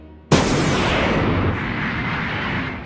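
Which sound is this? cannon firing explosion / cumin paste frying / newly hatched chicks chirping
cannon firing explosion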